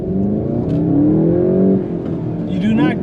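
Manual 2020 VW GTI SE engine revving up under throttle, a rising harmonic whine that climbs and falls across a few seconds, close and fairly loud, with people talking over it.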